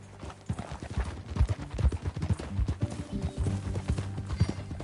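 Horse hooves clip-clop in steady rhythm in Red Dead Redemption 2, a galloping mount close by with soft thuds on dirt, fairly quiet and alone without talk.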